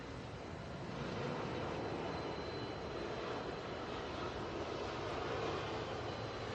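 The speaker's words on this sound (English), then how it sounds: "here's our 757 from JFK coming in" A Boeing 757 arriving from JFK comes in to land at Atlanta. It is a steady, broad jet engine roar at moderate distance that holds level throughout, with no talk.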